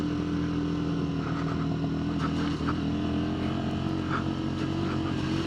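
Steady engine drone from a Sinnis SM-XE motorcycle being ridden, loud and continuous with slight pitch wavers and faint wind, no speech.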